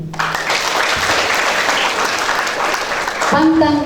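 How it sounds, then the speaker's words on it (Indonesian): Loud applause from the crowd at a university graduation ceremony, dense clapping filling the space before a voice and a tone break in near the end. "Tepuk tangan dulu"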